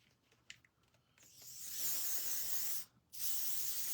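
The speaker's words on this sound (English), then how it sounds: "Now, I'm just going to spray one side of it." Hairspray sprayed from an aerosol can onto a primitive dog bone craft, two long steady hissing bursts separated by a brief pause, loud and close, preceded by faint handling clicks.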